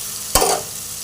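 Salt and red chili powder drop into hot oil, a sudden burst of sizzling and stirring that flares briefly over a low steady fry.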